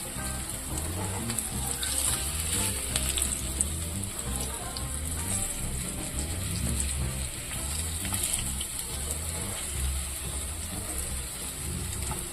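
Rava-coated fish for a Mangalore hotel-style crispy fry sizzles in a pan, giving a faint, steady crackling hiss throughout with no talking.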